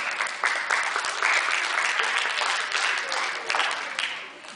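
Audience applause at a live fundraiser comedy show, a loud, sustained wash of clapping that keeps going with slight swells throughout.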